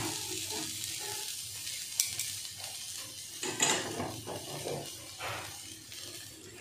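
Potatoes frying in a pan for a Bengali kachki fish and potato chorchori, with a sizzling hiss that surges near the 2 and 3.5 second marks as a little hot water is added, plus faint stirring.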